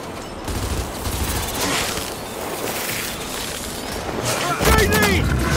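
Rapid gunfire in the Gears 5 video game, a dense continuous rattle of shots with a brief voice near the end.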